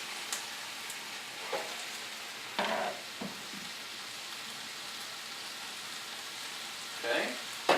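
Cooked lo mein noodles go into a hot pan and fry with a soft, constant sizzle, broken by a few brief splashes and crackling bursts as they land and settle.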